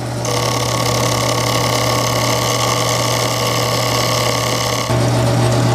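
A small milling machine hums loudly and steadily while cutting a homemade lock key, with a constant whine that shifts slightly in tone near the end.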